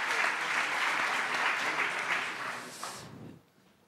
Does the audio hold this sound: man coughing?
no